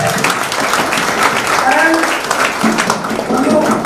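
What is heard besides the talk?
applause at a school get-together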